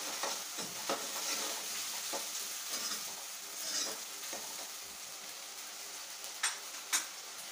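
Ginger garlic paste and spices sauté in hot oil for mutton curry, giving a soft, steady sizzle with occasional scraping stirs and a couple of sharp utensil clicks near the end.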